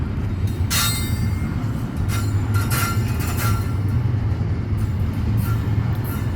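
A train rolls past on railroad tracks nearby, a steady low rumble of wheels with repeated metallic squeals and clanks rising over it throughout.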